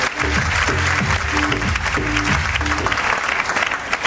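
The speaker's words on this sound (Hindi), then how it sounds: "बजाओ ताली अपने लिए जोरदार" An audience at a motivational work-and-teamwork talk in Hindi applauds loudly and steadily for themselves, a dense continuous clatter over low music-like tones, with some voices mixed in.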